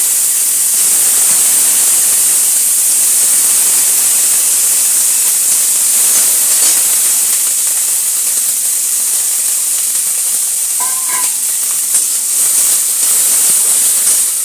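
Washed Malabar spinach (pui) seeds with chopped green chillies hit a hot pan and sizzle with a loud, steady hiss that barely varies throughout, with a few faint clinks.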